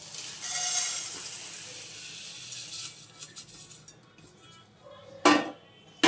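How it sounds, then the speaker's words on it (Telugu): Homemade baby cereal ingredients being dry-roasted in a pan, with a soft steady sizzle and scraping stir noises, then a couple of sharp metallic clinks of a utensil against the pan near the end. "వీటిని మంచిగా ప్యాన్లో వేయించుకోవాలి"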